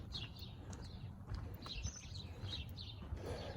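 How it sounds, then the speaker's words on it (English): Small birds chirp in short, high bursts against a soft outdoor background in Santa Monica, with light rustling nearby. "Hear the birds."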